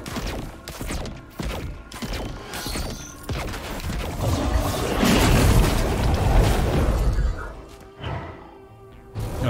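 Bomb blasts and heavy booms from the game Risk of Rain 2, several explosive hits and crashing impacts in a loud, dense stretch that swells midway and then eases off.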